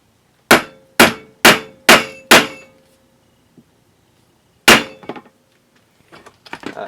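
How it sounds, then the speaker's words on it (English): Five sharp, evenly spaced metallic hammer blows drive a seal down with a socket on a 1975 Suzuki GT750 clutch, followed by a pause, one more ringing strike and some faint clattering handling noise. "Just grab a socket to drive that down with."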